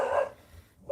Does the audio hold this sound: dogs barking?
yes